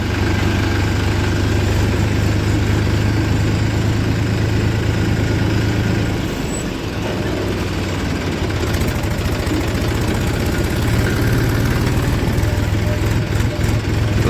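A tractor idles at a sugar mill, its heavy diesel engine chugging in a steady low throb that dips briefly and then carries on, with people talking quietly nearby.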